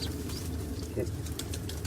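A pigeon takes off with a brief flurry of wing flaps close by, over steady low background rumble.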